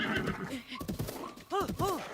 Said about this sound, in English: Oh, can we land on one of the horses?